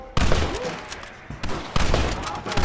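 Gunfire in a Red Dead Redemption shootout: a volley of loud, close shots in quick bursts, with heavier blasts at about 1.5 and 1.8 seconds and a dense game soundscape beneath.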